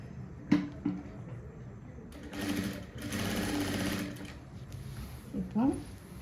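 A sewing machine runs in bursts while stitching a ready-made nighty during a tailoring alteration, with a steady mid-clip run and shorter starts, mixed with brief voice sounds.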